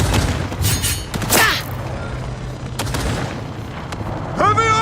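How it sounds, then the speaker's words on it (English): Heavy artillery fire in a combat video game, with several booming blasts and bursts of gunfire rising and fading amid battle noise, plus a voice shouting during the action. "Heavy artillery!"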